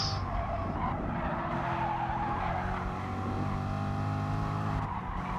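A Corvette and a BMW race car duel for position in a racing video game, engines droning steadily with continuous tire squeal and skidding throughout.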